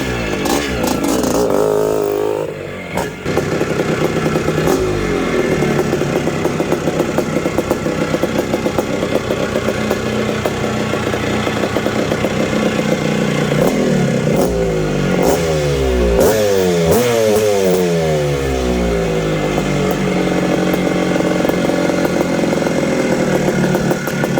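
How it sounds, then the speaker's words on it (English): A 1983 Maico Spider MC250 two-stroke motorcycle idles and revs hard, with loud, close engine noise that keeps rising and falling in repeated throttle blips and ringing, buzzing pitch sweeps, no voices over it. "I've never seen or heard a finer 250 Maico than this."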